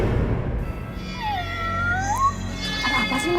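A person imitating a cat in an Indonesian horror drama, with several drawn-out, rising and falling meows, close and clear over a low background rumble.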